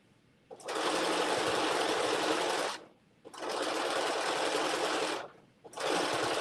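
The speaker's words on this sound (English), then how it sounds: "I'm just attaching the pockets, a 1/2 inch seam allowance." A sewing machine runs in three long, steady bursts with brief pauses between them while it stitches dress pockets with a half-inch seam allowance. The whirring is close and even, and no one speaks.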